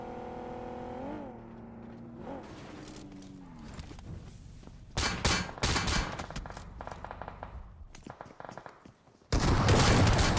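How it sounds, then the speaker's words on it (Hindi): Gunfire in an Apex Legends battle royale esports match: scattered shots and short bursts after a sweeping effect, then dense rapid automatic fire near the middle and a loud final barrage, quiet gaps between. "पीछे से भी गोलियां पड़ती हुई"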